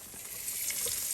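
Leafy greens frying in a pan in a rural Bangladeshi kitchen give a steady, close hiss of sizzling oil that holds level and stays alone throughout, with no voices.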